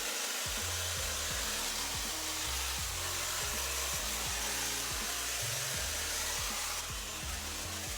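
A hair dryer fitted with a diffuser blows steadily while drying curly hair, a loud even whoosh with a repeating low pulsing flutter as the hair is lifted and worked at the roots.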